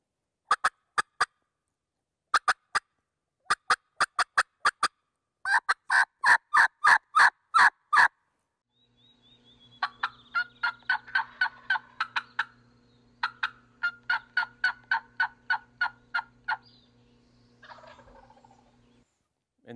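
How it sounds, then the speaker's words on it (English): A wild turkey gobbles repeatedly in the open. Rapid clucking call sequences come in several bursts, then a long, rattling gobble rolls out over a low steady hum, with no talking. "hopefully, you get a turkey to gobble"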